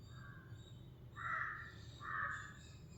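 Crows caw outdoors in two loud, drawn-out calls with a fainter call before them, over a low background rumble of distant traffic.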